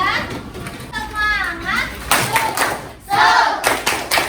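Schoolchildren in a classroom performing the tepuk semangat clapping chant, bursts of rhythmic hand claps mixed with kids chanting together, fairly close and lively.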